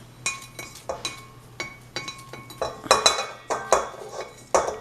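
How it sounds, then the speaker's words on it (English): Sugar goes into a mixing bowl for cake batter, heard as a series of sharp clinks and scrapes of a utensil against the bowl, with the strokes growing denser and louder toward the end, close by with no talking. "take your sugar, put sugar in there, all your sugar in there"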